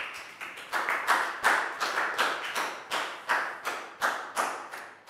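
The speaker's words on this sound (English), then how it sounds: "a big round of applause for Prel, please, guys." Classroom applause from a group of students, a rapid run of sharp, close hand claps in irregular bursts, with no one speaking.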